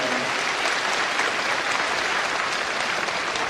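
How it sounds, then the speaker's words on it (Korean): Steady, dense applause from a church congregation at an Easter dawn union service in Incheon, many hands clapping evenly and continuously at close range without speech. "다시 한번 큰 박수로 축하해 주시기 바랍니다"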